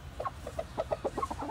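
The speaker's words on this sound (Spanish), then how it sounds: "Hoy en este video les vamos a hablar de los gallos asil." Asil roosters clucking in a steady run of short, throaty calls, several birds overlapping at moderate distance with no talk.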